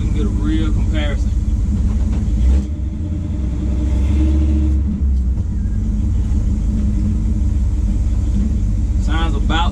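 Truck engine running with a newly installed exhaust, a loud, deep steady rumble that swells briefly mid-clip as if revved, close by, with a person speaking over it at the start and end.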